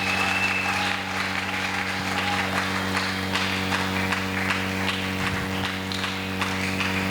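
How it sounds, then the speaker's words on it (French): A church congregation applauding loudly and steadily for several seconds, dense continuous clapping filling a hall with a steady hum underneath. "Nous acclamons Petit Maboko très fort"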